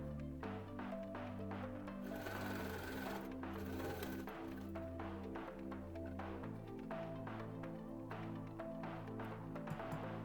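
A sewing machine runs steadily and nearby, stitching the top tunnel of a medical shower apron where a cord will pass through, its motor hum and rapid needle rhythm continuous, with no voices.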